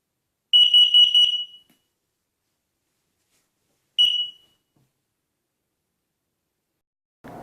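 A carbon monoxide alarm sounds loud, close electronic beeps: a rapid burst of about a second, a pause, then a shorter beep.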